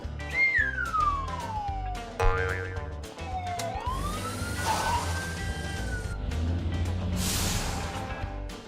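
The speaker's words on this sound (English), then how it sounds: "Ambulance." An ambulance siren wails with a rising and falling tone through the middle of the clip, mixed in with cheerful background music and cartoon sound effects in a children's lesson on vehicle names and sounds.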